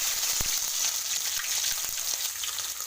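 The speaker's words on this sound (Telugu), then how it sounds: "ఇప్పుడు అల్లం వెల్లుల్లి పేస్ట్ వేస్తాను." Ginger garlic paste frying in hot oil in a pan after tempering spices, while cooking an egg curry: a close, steady, continuous sizzle with faint crackles and no talking.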